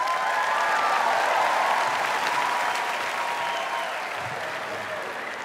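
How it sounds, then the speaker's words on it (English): A theatre audience at a televised talent show applauds steadily, a broad wash of clapping that holds loud and then slowly tapers toward the end. "you get a big round of applause?"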